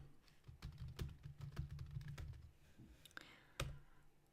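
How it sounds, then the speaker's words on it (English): Commands are typed on a computer keyboard in quiet, close clicks, a fast burst of keystrokes followed by a few separate taps. "I like to fully type out the commands just so I can have them in my muscle memory."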